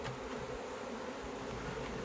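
Bees from a swarm caught from a bush fill a hive, giving a dense, close, steady buzzing drone throughout with no talking.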